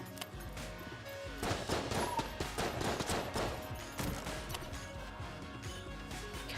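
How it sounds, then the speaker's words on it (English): Repeated grenade explosions in the roguelike shooter Enter the Gungeon, a dense, loud barrage of overlapping blasts and crashes layered over game music with no talking. "Those are grenades, though."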